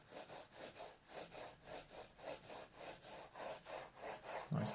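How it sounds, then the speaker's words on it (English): Pencil shading in a road on paper for a one-point perspective drawing, a quick rhythmic scratching of about a dozen even back-and-forth strokes, close and faint. "I'll just shade in the road as well."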